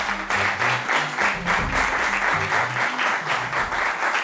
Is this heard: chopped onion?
no